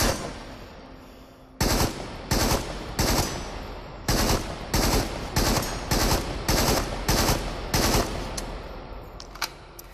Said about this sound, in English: the AK's got a slow enough fire rate for you to burst fire it